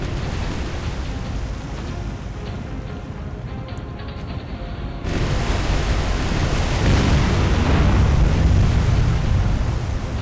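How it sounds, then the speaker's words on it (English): Eight-inch naval gun shells striking a burning warship in a naval war game, a dense roaring rumble that swells louder partway through, with no distinct separate blasts and no voices. "she's getting hit by our big 8-inch guns"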